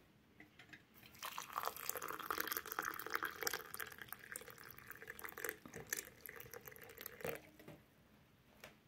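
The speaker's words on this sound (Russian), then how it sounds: "Заварить горячей, но не кипящей водой." Hot, not boiling, water pours and splashes into a vessel over oregano flowers to brew tea for several seconds, close by, then trails off to quiet.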